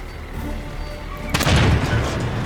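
A small tank fires in a video game, one sudden heavy boom cutting in over a steady background hum, then a rumbling tail that fades off slowly.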